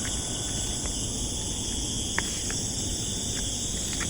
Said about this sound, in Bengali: শুধু ঝিঝি পোকার ডাক।